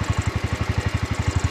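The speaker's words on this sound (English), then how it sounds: "Oh yeah, look at that putt. Look at that little putt." A Wheel Horse C-81 garden tractor engine idles close by with a steady, rapid putt-putt rhythm of evenly spaced low thumps, and no one talks over it.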